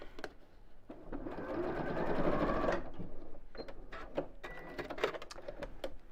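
Sewing machine stitching fabric pieces together, a close whirring run that swells and fades over about two seconds, followed by softer clicks and taps of handling, no talk.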